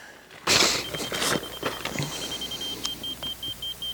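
A short burst of clatter and rustling up close, then a thin electronic beep from a rotary laser receiver repeating at a slow, even rhythm.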